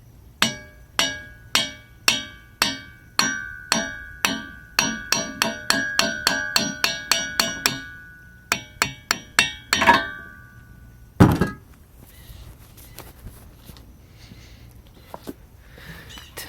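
Steady metallic hammer blows knock a tight rear wheel bearing off a Dana 44 axle shaft, about two strikes per second ringing with a clanging tone for roughly ten seconds, then a single heavy clunk as it comes free, with no talking.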